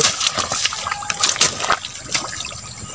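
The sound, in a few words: water being let flow out while draining for catfish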